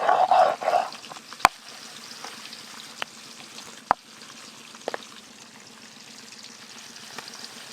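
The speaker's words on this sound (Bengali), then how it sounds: "এবার আমি সব মাছগুলো ভাজবো ভালো করে।" Chitol fish, a 4.5 kg catch cut into pieces, frying in well-heated oil, giving a steady mid-level sizzle with a brief louder burst at the start and a few sharp clicks and knocks along the way.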